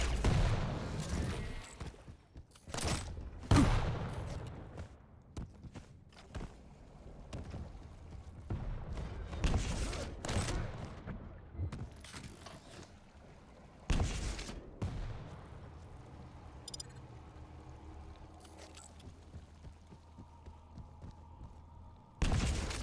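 Rocket and orb combo attack in a fast competitive shooter match: repeated sharp explosive bursts and booming impacts in rapid succession, loud and busy, with brief quieter gaps between volleys.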